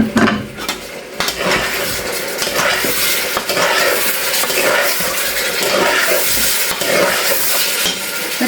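Chicken frying in a pan with garlic ginger paste just added, giving a loud, continuous sizzle close up, with stirring and clatter of a utensil against the pan throughout.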